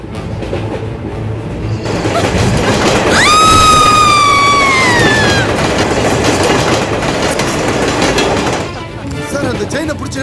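A train running on rails rumbles loudly for several seconds with rhythmic clatter and a high wheel squeal rising and falling midway, then the roar eases off.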